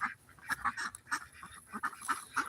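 Ducks quack repeatedly in short, irregular bursts, fairly faint and a little distant, with no talking.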